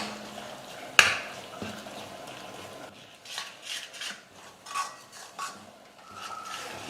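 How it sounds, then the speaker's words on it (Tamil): Egg and carrot stirred together in a pan, a spoon scraping and clinking against the metal in soft irregular strokes, with one sharp knock near the start, quiet and close, no talking. "இப்போ நம்ம கேரட்டோடு சேர்த்து முட்டையை நல்லா மிக்ஸ் பண்ணி விட்டுக்கலாம்"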